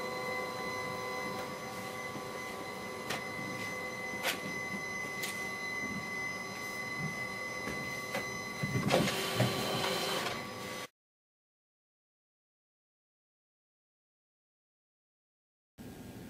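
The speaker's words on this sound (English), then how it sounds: "the machine is scanning at a high compression, so it does make the machine scan slowly" An MXC250/MXC300 Neo multifunction printer scans documents at 600 dpi with high compression, giving a steady mechanical whir with repeated ticks and a brief louder burst. It cuts to silence, then briefly resumes.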